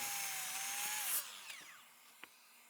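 Power saw trimming the cracked end off a rough sawn board, a brief whining cut that winds down as the blade slows, followed by a few faint knocks.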